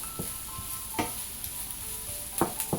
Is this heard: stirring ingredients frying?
yes